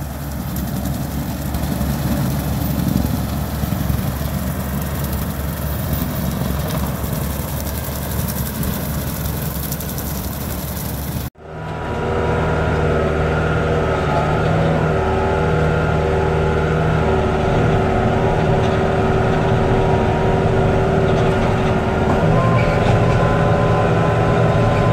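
Tractor engine runs with a tiller attached, a loud steady heavy drone with low rumble and mechanical whine; the sound shifts abruptly midway to a closer, harsher running tone, with no talking.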